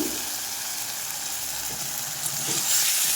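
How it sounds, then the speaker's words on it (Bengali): Neem leaf sprigs frying in hot oil in a wok, a steady bright sizzle and crackle filling the whole short stretch, close and fairly loud, with no talking. "এবার আমি কড়াইতে তেলের মধ্যে তুলে দিলাম প্রথমে নিম পাতার কলিগুলোকে"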